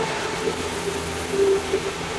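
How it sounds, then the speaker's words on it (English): A train rolls past nearby as a steady, broad rumble with a faint squeal rising over it. "There's a train going by"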